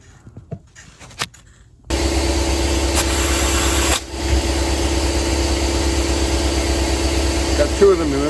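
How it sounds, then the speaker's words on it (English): An air compressor in a garage, used during a Harley V-Rod rear wheel and brake restoration, kicks on abruptly after a few quiet clicks and runs as a loud, steady droning hum, dipping briefly midway before resuming. "I gotta turn my air compressor up some more."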